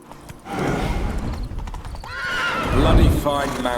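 A horse in The Witcher 3 gives a loud, close neigh and whinny, with clip-clop hoofbeats underneath and a voice talking over it.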